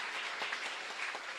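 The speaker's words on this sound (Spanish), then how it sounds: "Fuerte aplauso" A congregation applauds during a live Mass in a parish church, a dense, steady ripple of clapping from many people, fairly close and without talk.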